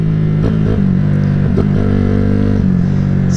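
A 2007 Honda CG 150 Titan motorcycle ridden along, its engine droning steadily and loud up close with small rev changes and clattery bumps, no talking.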